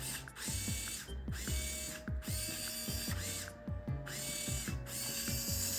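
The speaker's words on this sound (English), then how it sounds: "And then we've got our servo right here. Press down the trigger." Servo motor in a homemade automated Nerf turret pressing down the blaster trigger, whirring and clicking mechanically in repeated cycles of rising and falling motor pitch with ratcheting clicks, close and continuous.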